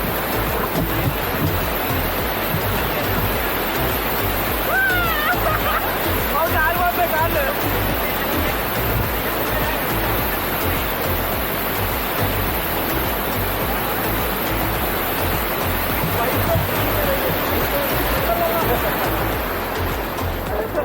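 Kurapalli waterfall near Visakhapatnam, with water pouring and splashing in a steady, loud broadband rush that fills the whole stretch, with faint voices now and then underneath.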